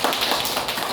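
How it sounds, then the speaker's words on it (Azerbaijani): Schoolchildren applaud in a classroom, a brief, dense patter of many hands clapping at once, fairly close and steady. "Nəzrin alqışlayaq uşaqlar."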